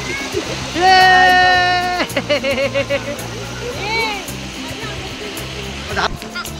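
Adai waterfall near Panvel, where people have come to swim: a steady rushing roar of falling water fills the background while voices shout and talk loudly over it.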